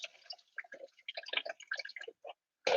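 Spaghetti cooking water drained from a pan: scattered small drips and light clinks, then a sudden loud gush of pouring water at the end.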